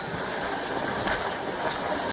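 A passenger train on an Assam to Bangalore journey runs through dense jungle, giving a steady, loud rolling rumble and rattle of carriages heard from on board, with no voices.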